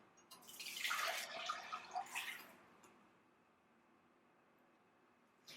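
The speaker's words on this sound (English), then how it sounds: "you're going to strain it into a measuring cup with a strainer. You can use any type of strainer you want, and I'm just going to pour it directly into here" Coffee is poured through a strainer into a measuring cup, a close, quiet trickling splash that swells for about two seconds and then tapers off into near silence.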